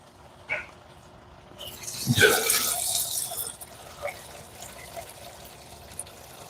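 Coolant gushing and splashing out of a Subaru during an intake swap, a sudden loud rush of liquid that tapers into dripping and trickling, with voices talking over it.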